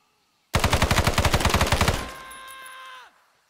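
Rapid automatic machine gun fire in the video game ArmA 3 rattles out as a loud, fast burst of about fifteen shots, followed by a ringing echoing tail that fades after roughly a second.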